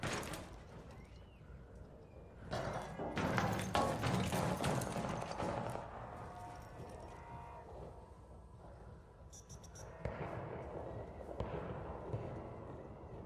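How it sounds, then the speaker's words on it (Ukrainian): Bursts of sharp, crackling gunshots in the video game ARC Raiders, loudest in a dense volley early on, then scattered shots against a steady low background. "А стрілянина, стрілянина то йде."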